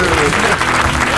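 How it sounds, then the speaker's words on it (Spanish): Studio audience applauding during a Spanish television comedy show, a steady loud wash of clapping with voices over it. "Un fuerte aplauso Carvajal para David Broncano!"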